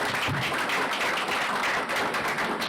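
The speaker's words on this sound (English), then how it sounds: "let's give them all a big round of applause" A crowd at a college board meeting applauds a volleyball team, a dense patter of clapping hands sustained for a few seconds at moderate loudness, with no voices over it.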